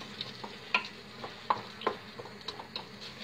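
White beans sautéing in a pot while being stirred, a soft sizzle under a series of light taps and scrapes of a spoon, close and quiet, with no talking.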